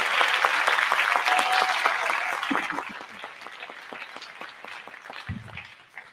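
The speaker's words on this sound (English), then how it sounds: "So again, round of applause for our friends and family." Applause for friends and family at a business scaling program cohort event: a dense burst of many hands clapping that fades into scattered, sparser claps, with a brief voice near the end.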